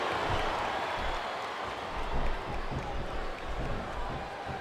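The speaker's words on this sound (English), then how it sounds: "The crowd is coming alive." A crowd roars in the WWE SmackDown vs. RAW 2007 wrestling video game during a Benoit, Triple H and Shawn Michaels match, a dense continuous wash of cheering from a distance with no single voices standing out.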